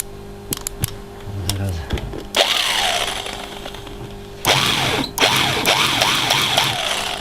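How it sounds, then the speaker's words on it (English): A small drill bores into the mast platform (top) of a ship model in short bursts, its whirring rising and falling repeatedly between pauses, with people speaking nearby. "So basically you're drilling"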